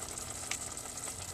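Curry sauce bubbling and sizzling in a pan with tofu, a steady close-up hiss with small popping bursts, continuous and fairly quiet.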